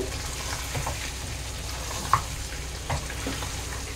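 Mutton kala bhuna stirred in a pan after tempering, a steady low oily sizzle with a few sharp scraping clinks of the spoon against the pan.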